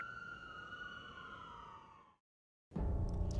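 An ambulance siren wails as one steady falling tone, fairly faint, then cuts to silence before a burst of louder noise.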